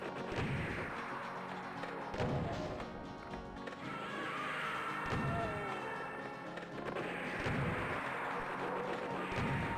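Chaingunners trading machine-gun fire in a video game, a dense, continuous rattle of shots with repeated heavy thumping bursts throughout.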